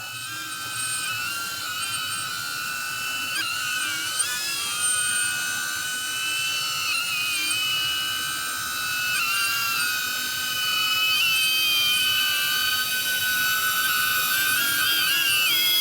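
DJI Avata drone taking off and flying, a steady high-pitched whine from its propellers that holds throughout, pitch wavering slightly as it moves, close and continuous with no voices.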